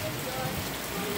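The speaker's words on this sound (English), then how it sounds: "We under the rain right now." Rain falling at Myrtle Beach, a steady patter of drops on surfaces forming a continuous soft hiss for a brief moment.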